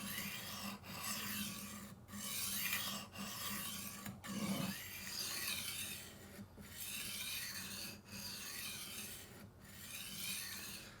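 A butter knife is drawn repeatedly across a manual knife sharpener's coarse stage, giving a steady rasping scrape in even strokes about once a second with brief pauses between passes, close and clear with no talk.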